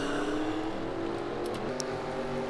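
Race truck engines in a Nashville Truck Series racing game drone steadily as the field rolls off, a loud layered hum of many motors with a slight pitch shift.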